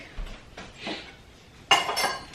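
Calphalon stainless steel pans clink and knock together in a home kitchen, a few scattered metallic taps followed by a brighter, louder clatter near the end, close by with no talk.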